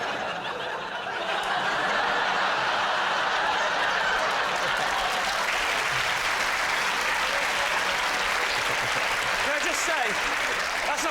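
A television studio audience claps loudly and steadily, with scattered chuckles and snickers mixed into the applause.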